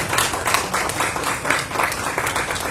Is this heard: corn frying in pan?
no